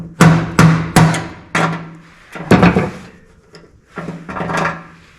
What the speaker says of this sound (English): I've just got here a little plastic hammer